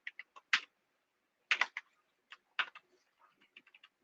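Keys on a computer keyboard click in short, irregular bursts of separate taps with quiet pauses between them, fairly close and with no voice.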